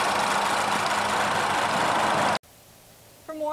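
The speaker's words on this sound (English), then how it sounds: "under the hood, it has a 2-liter I-4 engine" A Ford EcoSport with a 2-liter I-4 engine runs as a loud, steady, broadband roar for about two and a half seconds, then cuts abruptly to a quiet background with a faint tonal sound near the end.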